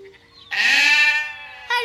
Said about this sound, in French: Nous pourrions vous aider à réunir les moutons.